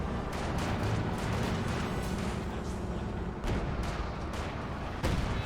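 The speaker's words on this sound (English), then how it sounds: "Great hit there by the bunker buster barrage from the Brumbar." A Brumbar bunker buster artillery barrage in the video game Company of Heroes 2 keeps up a dense, continuous roar of blasts and heavy booms, with a few sharper impacts standing out, loud and without talk.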